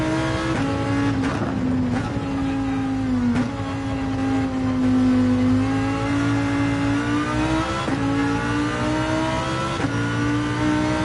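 Lamborghini race car engine in Gran Turismo 7, a loud sustained rev that holds a steady droning pitch with brief dips and climbs at shifts, close and continuous with no talk.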